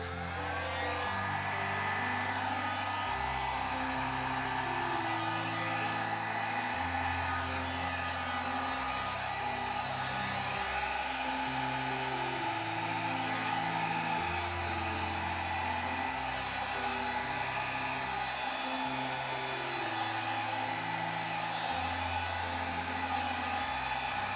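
A hair dryer set on low blowing across the wet surface of poured acrylic paint, a steady close whirring hum with a faint wavering background tone, running continuously with no talking.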